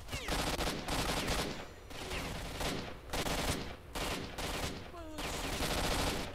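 Gunfire in S.T.A.L.K.E.R. Shadow of Chernobyl: loud rapid bursts of automatic weapon fire in repeated volleys separated by brief pauses, with a voice heard faintly among the shots.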